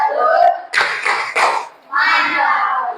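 Children in a classroom clap in a quick rhythmic group pattern, loud and close, with young voices chanting along between the bursts.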